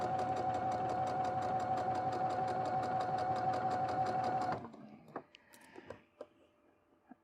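A Brother Innovis 1500D sewing and embroidery machine stitches in a steady, fast mechanical rhythm, loud and close, then stops abruptly, leaving a few faint clicks and handling noises.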